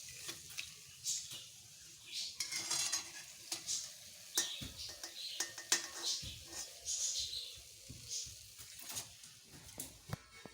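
Khasta pastries frying in hot oil with a soft, steady sizzle, broken up by stirring and clinks of a metal utensil against the pan; no talking.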